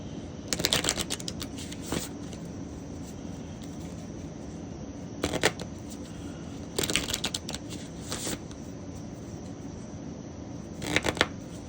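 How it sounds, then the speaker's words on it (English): Tarot cards being shuffled close up in several bursts of rapid riffling and flicking, separated by quiet pauses, no talk. "But let's pull these last couple of cards."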